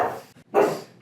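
A pet dog indoors gives two short barks close to the microphone, the second louder and fuller, with a brief gap between them and no talking over them.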